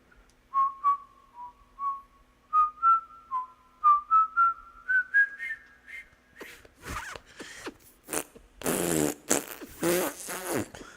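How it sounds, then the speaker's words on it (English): A person whistling a rising run of short clear notes, stepping upward in pitch, followed by breathy blowing and spluttering attempts as the whistle breaks down. "That's whistling."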